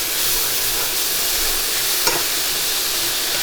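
Onions sizzling steadily in a hot pan while caramelizing, a dense continuous fry hiss up close with a faint stir or tap partway through.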